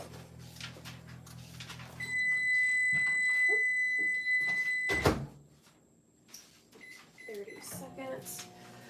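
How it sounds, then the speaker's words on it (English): A kitchen oven beeps to signal it has finished preheating, a sustained electronic tone lasting a few seconds, heard alongside a person talking nearby and clattering kitchen sounds, including a sharp knock midway. "that beep was to let me know that my oven is preheated"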